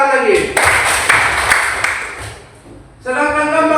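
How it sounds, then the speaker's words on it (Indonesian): A group claps hands in a short burst of moderately loud applause in the middle, with a person talking before and after. "Ya, kita tepuk tangan lagi."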